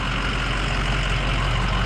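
A 2007 Ford F450 diesel crane truck runs close by with a loud, steady engine rumble that holds level for the whole short stretch, with no talking.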